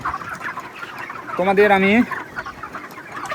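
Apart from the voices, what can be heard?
chickens clucking on a village poultry farm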